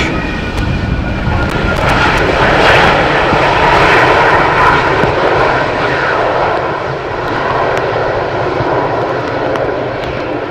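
An airliner lands on runway 18R at Amsterdam Schiphol in rain, its engines producing a loud, sustained roar that swells and fades over a broad hiss of wind and rain.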